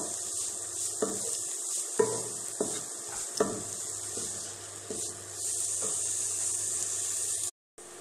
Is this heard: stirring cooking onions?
yes